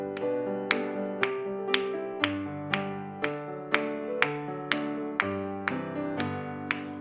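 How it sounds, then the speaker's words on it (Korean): Worshippers at an early-morning church prayer service clap along to a hymn, sharp claps landing on a steady beat about twice a second over sustained keyboard accompaniment. "또 함께 찬송가 365장 우리 박수하면서 찬송하겠습니다"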